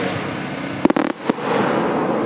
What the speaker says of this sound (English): Next up, 100 shot fan shape. This is a white stroke mine from Dominator.